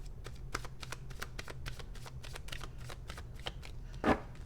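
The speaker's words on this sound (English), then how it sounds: "Archangel Michael says to shuffle this one last time." Tarot cards being shuffled by hand, a quick run of crisp riffling flicks and soft slaps at close range, ending in a slightly louder rustle.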